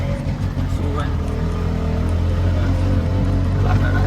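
Auto rickshaw ride with a loud, close engine drone and road rumble running continuously throughout, steady and unbroken.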